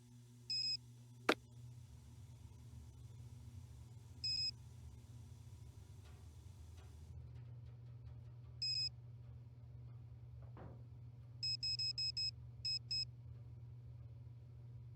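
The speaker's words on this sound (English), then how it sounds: "Nuts, there goes my phone." Repeated short electronic beeps of a ringing phone in the Nancy Drew mystery game Warnings at Waverly Academy, brief tone bursts over a low hum with a sharp click near the start.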